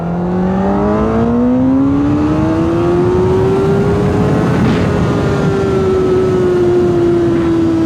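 A Honda CBR 1000 RR motorcycle accelerates hard in first gear, its engine note climbing steadily in pitch to a high, loud rev, easing slightly near the end, with no voices.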